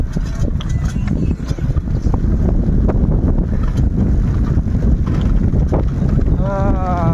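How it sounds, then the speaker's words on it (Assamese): Cold wind blowing outdoors in a village on a rainy-season day, heard as steady, loud rumbling wind buffeting the microphone throughout, with faint vehicle or boat noise beneath. "ঠাণ্ডা ঠাণ্ডা বতাহ মাৰি আছে"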